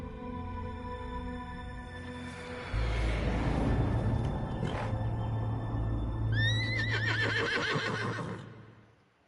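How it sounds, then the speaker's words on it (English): A horse in Metal Gear Solid Delta neighs loudly with a long, quavering whinny, ending in a high trill, over a steady low musical background. "I agree with whatever the horse said."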